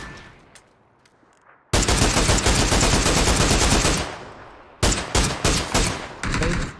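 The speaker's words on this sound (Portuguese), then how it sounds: "acertei 2 ou 3 tiros nele" Automatic gunfire in the PUBG battle royale game: after a quiet lead-in, a long loud burst of rapid shots, then several separate short bursts and single cracks close by.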